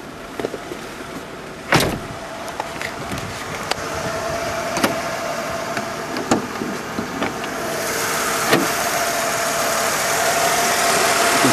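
2001 Mercedes-Benz C240 with a 2.6 litre six-cylinder engine running at idle, a steady close mechanical hum with occasional clicks and knocks, growing a little louder toward the end.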